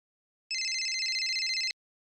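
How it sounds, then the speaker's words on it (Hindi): A phone ringtone goes off during a comedy stage sketch: a single steady electronic burst of about a second, pulsing rapidly and loud, with silence before and after. "एक मिनट, फोन आया।"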